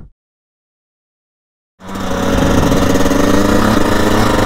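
A Yamaha YZ 125 two-stroke dirt bike engine cuts in after a moment of silence and holds a loud, close, steady buzzing drone while riding off-road.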